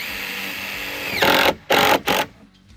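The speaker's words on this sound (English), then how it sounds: "And you screw it to your 2x4 that's upright like this." A power drill drives 1/4-inch tin screws into an upright 2x4 for a self-watering garden bed: a steady whine, then a few loud close bursts as the screw bites and stops, with no talk.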